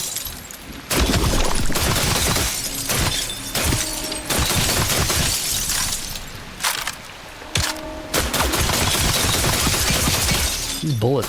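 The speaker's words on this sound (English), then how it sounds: "These bullets sound like shooting glass." Pistol shots in the video game The Last Caretaker, sharp shattering glassy bursts repeated in loud clusters across the stretch, with brief pauses between volleys and a voice speaking at times.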